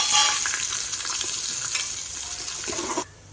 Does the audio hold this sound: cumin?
yes